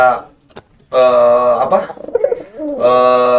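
Pigeon or dove kept by a bird breeder, giving a few resonant rolling coos in short bursts, close and fairly loud.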